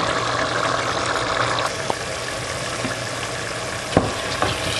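A vegetable hot pot sizzles steadily in a pan over medium heat while it is stirred, with a soft continuous fry and a couple of faint scrapes and knocks near the end.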